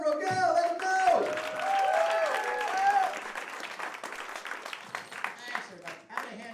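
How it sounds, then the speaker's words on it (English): Comedy club audience applauds a comedian as he is introduced, clapping swelling and then thinning out, with a voice and cheers mixed into the crowd noise. "Clap it up for Greg Rogel, everybody."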